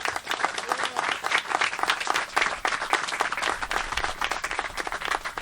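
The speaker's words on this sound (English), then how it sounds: "Give her a big round of applause." An outdoor audience at a river access dedication bursts into sustained applause, dense steady clapping from a moderate-sized crowd, continuous throughout.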